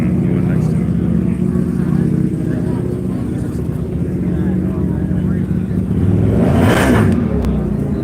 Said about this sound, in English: revving up that motorcycle again